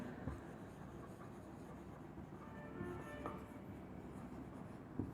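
A pen scratches steadily on paper during a maths lesson, a faint, continuous close scribbling with small strokes and no talking.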